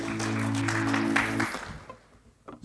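A church congregation cheers and claps in praise of Jesus at a Sunday service, a dense burst of applause and shouting layered over a sustained organ-like chord that cuts off after about a second and a half, leaving scattered faint claps.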